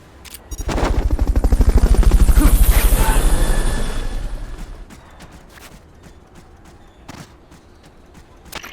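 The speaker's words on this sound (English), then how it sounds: "Fulton recovery subject confirmed onboard helicopter." Helicopter during a Fulton recovery in the video game Metal Gear Solid Peace Walker, rapid rotor chopping swelling loud and close then fading away, followed by quieter mechanical clicks.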